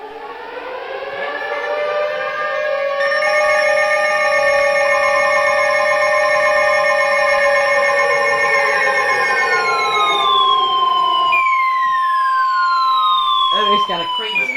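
Weather radio tornado warning alert from the National Weather Service in Sterling, Virginia: a loud, sustained two-tone electronic alarm holds steady for about ten seconds, then cuts to a single tone and falling sweeps before ending.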